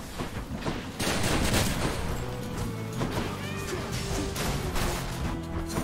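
Rapid gunfire bursts and impact crashes from a close-range gun build in the action game Hades, dense and loud with overlapping blasts and game effects throughout.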